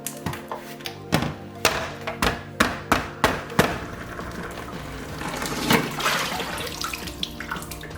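Water runs and splashes off a freshly flipped block of clear homemade ice, with a series of hard thunks and knocks at the start, then a steady close trickle and spatter.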